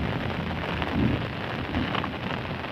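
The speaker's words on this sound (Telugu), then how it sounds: "అదిగో మొత్తం వర్షం అయితే పడుతున్నాయి" Monsoon rain falls steadily and densely outdoors, a close, even hiss of drops on surfaces with no talk.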